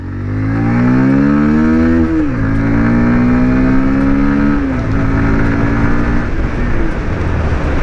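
A 2024 Bajaj Pulsar 125 BS7 motorcycle accelerates from a start, its engine note climbing loud and close through two gear changes, each shift marked by a brief dip before the rev rises again.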